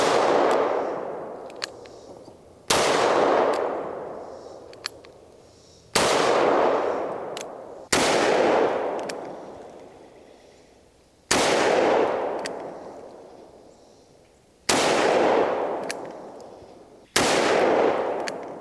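A shotgun firing 7.5 shot Federal Top Gun shells in the woods, with seven loud, sharp blasts at irregular intervals a few seconds apart, each trailing off in a long echoing decay.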